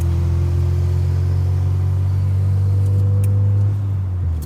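A Kenworth big rig engine drones loud and steady from inside the cab while driving on a rig move in central Alberta, a deep constant rumble that eases slightly near the end.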